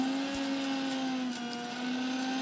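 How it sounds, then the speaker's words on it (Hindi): An electric blender grinds whole almonds in a steady, loud motor whine with a constant hum, running alone without any voices. "इसके बाद फर्स्ट ऑफ ऑल बादाम को ब्लेंडर में डाल के पीसेंगे।"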